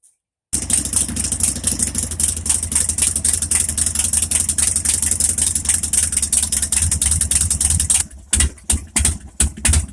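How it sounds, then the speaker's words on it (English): A Harley-Davidson Sportster 5-speed motorcycle from the 1991-2003 XL range idles while warming up, a loud steady rumbling engine close by that runs continuously before stuttering and cutting out near the end. "go ahead and warm the bike up a little bit before I go ahead and dump the primary oil on it"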